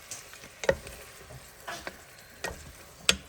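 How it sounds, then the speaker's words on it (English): Meat and onions sauté in a pan with a quiet, low sizzle, punctuated by several sharp spoon scrapes and clinks as the mixture is stirred. "lightly fry the meat"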